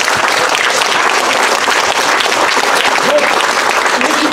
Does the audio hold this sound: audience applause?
yes